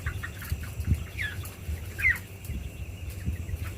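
A shed holding about 2000 broiler chickens with a respiratory infection, soft clucking and murmuring from the flock with occasional short crackling, rattling breath sounds, fairly quiet and close by.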